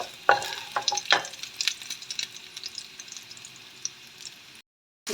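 Spring onions sizzle in a pan while a utensil stirs them, with scraping clatters at irregular intervals over a soft frying hiss, close and fairly quiet, ending in a brief silence.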